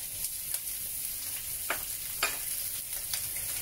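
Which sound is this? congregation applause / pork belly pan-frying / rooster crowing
pork belly pan-frying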